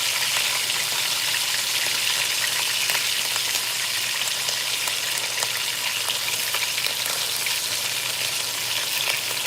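Beef browns in a hot Dutch oven on a stove for braised beef, giving a steady, dense sizzle and crackle of frying meat. The sound is close and continuous, with no speech.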